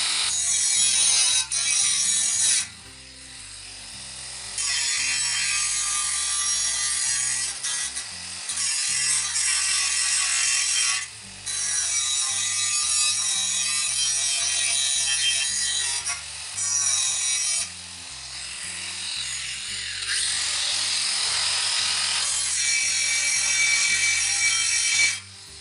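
Continuous, loud grinding on boat trailer metal to remove sharp edges and loose metal, with a harsh, steady rasp and a few short pauses, over a low rhythmic background of what sounds like music.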